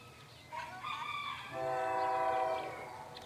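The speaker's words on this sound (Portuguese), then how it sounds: "Lá vem o trem." A train sounds its horn in long sustained blasts as it approaches a disused rural railway station, fairly faint and distant, with a rooster or fowl audible and no talk.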